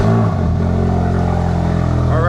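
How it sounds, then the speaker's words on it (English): A Ford Focus RS/ST engine idles steadily and loudly close by, a constant low throbbing hum with a slight rise in pitch near the end. "next step is going to be starting it up, engine on, then double check"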